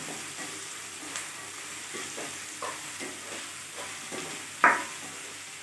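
Chopped vegetables sauté in a pan for a white-sorghum (ven sola) semiya kichadi. A soft, steady sizzle runs throughout with light stirring scrapes and one sharp utensil clank near the end.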